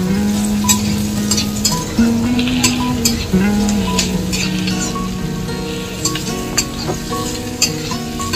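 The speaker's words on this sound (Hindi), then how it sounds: "अभी हल्का सा इसको फ्राई कर ले रहे हैं हम लोग।" Onions frying in oil for pork curry, a loud continuous sizzle with scattered crackles and spatters up close, alongside a steady hum from a nearby appliance.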